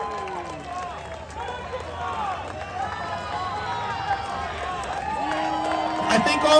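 Spectators at an Oktoberfest competition in Chippewa Falls, Wisconsin cheer and whoop for the competitors, a lively outdoor crowd with shouts, scattered clapping and rising excitement, mixed with nearby talking voices.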